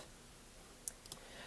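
A few faint, quick computer mouse clicks, one crisp click followed by a couple of softer ones close together, over a low background hiss, while working in the Tiled map editor.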